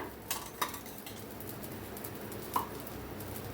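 A dosa being flipped and shifted with a metal spatula on a pan, heard as a few light scraping clinks, one near the start and another a couple of seconds later, over a low steady background.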